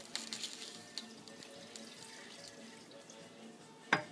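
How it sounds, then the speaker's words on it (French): Water poured slowly into a pot for a Dominican sancocho stew, a faint steady trickle and splash, with a louder splash or clink at the end. "On commence à ajouter tranquillement de l'eau."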